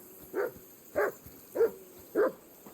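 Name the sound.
dog barking in video game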